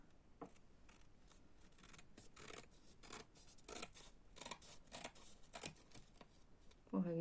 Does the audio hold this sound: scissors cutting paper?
yes